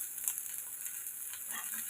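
Sliced ivy gourd (kovakka) sautéing in a pan as the water cooks off, a steady soft sizzle with light hiss throughout and faint stirring scrapes near the end, no talking.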